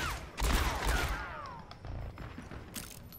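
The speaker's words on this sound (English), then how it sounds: "So you can shoot a bunch of times at once." A quick burst of rapid McCree gunfire in a video game fires off several shots in close succession, loud for about a second, then fades to quieter trailing thuds.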